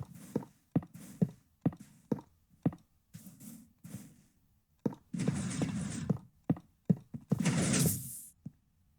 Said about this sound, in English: you can already hear everything starting to fire off as we trigger those observers